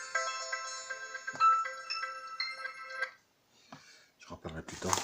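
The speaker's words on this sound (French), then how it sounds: "Un téléphone qui sonne." A mobile phone ringtone plays close by for about three seconds as a repeating electronic melody. After a brief pause, a person speaks.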